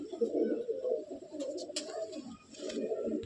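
Andhra breed pigeons in a loft coo in low, throaty murmurs, several birds overlapping close by, with a few brief higher chirps above the rolling hum.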